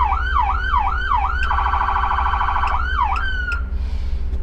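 Fire department brush truck siren running through its tones: a rising-and-falling wail, then a rapid warbling yelp, then a wail again before cutting off, loud and close with no talk.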